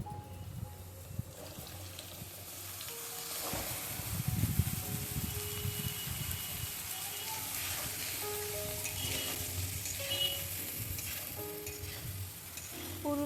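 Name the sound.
potatoes and pointed gourd (potol) frying in a pan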